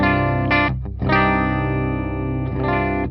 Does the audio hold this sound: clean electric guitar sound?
yes